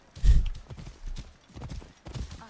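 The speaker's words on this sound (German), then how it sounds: "Schneller, mein Pferd, schneller!" A horse gallops in Assassin's Creed Origins, its hooves landing in quick clip-clop bursts with a loud first impact and softer strides following, no talk over them.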